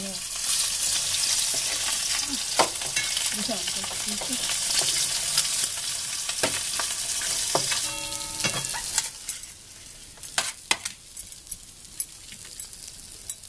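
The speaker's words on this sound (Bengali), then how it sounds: "মাথাগুলো ভেজে নেব" Katla fish heads fry in hot oil with a loud, dense, continuous sizzle up close, broken by occasional sharp pops and stirring knocks, easing into a quieter spatter near the end.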